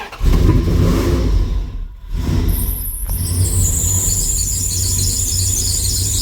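Engine of an old $750 truck with a power steering leak runs and revs, a loud, close engine rumble with a shrill belt squeal rising over it, a brief dip, then a steady high whine.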